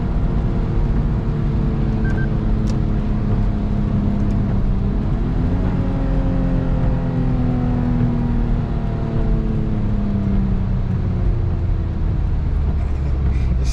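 A Lexus IS250 engine and exhaust drone steadily while driving, a low continuous hum whose pitch climbs as it revs up partway through, close and fairly loud with no voices.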